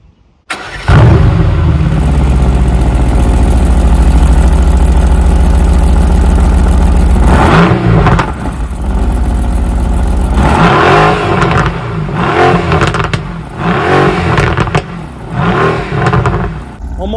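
A 2020 Mercedes-AMG GT R, 577 hp, starts with a loud bark and settles into a deep idle, followed by several sharp throttle blips and revs, very close and loud.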